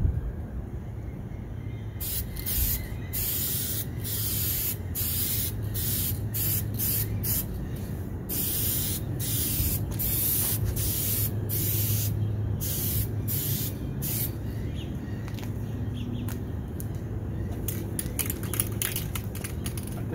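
Spray gun laying a light first coat of paint on a vehicle outdoors, bursts of hissing spray starting and stopping in an irregular rhythm over a steady low background rumble.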